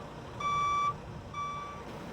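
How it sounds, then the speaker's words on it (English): A cement truck's backup alarm gives two evenly spaced electronic beeps over a low idling engine rumble. "this is going to be a test of the backup alarm"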